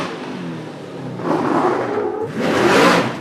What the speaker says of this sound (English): truck sounds like it's breaking up